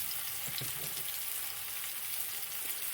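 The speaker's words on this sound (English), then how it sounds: "Meanwhile my fennel is cooking just right, and time to turn it round" Fennel frying in a hot pan, a steady close sizzle with faint crackles running throughout and no voices.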